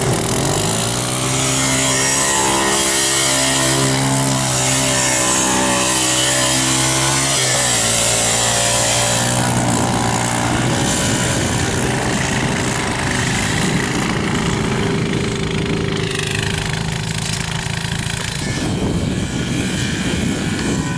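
Engine revving hard at high RPM in snow, a loud sustained droning whine that shifts pitch midway as the throttle changes, close and continuous, with no speech.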